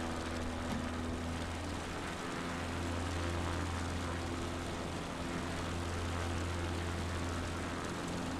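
CubCrafters XCub propeller aircraft engine in Microsoft Flight Simulator 2024, a steady droning hum holding constant throughout, alone with no talk.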